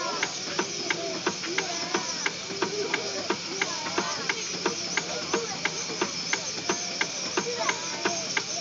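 A steam engine idles at a low speed at a steam show in Rollag, giving a steady hiss with a regular, evenly spaced mechanical tick throughout.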